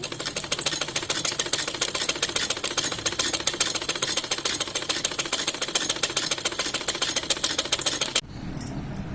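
A sewing machine stitches a mohori design with a rapid, even run of mechanical ticks close by, then stops abruptly near the end.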